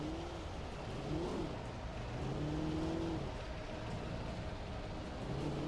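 Powerful car engines in a video game rev and accelerate with rising and falling whines, a continuous moderate engine roar heard alone without voices.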